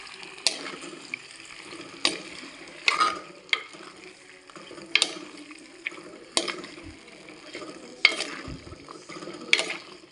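Mutton curry being stirred in a pan, with repeated scraping and clattering strokes at an uneven rhythm over a low background hiss, close and moderately loud, no talking.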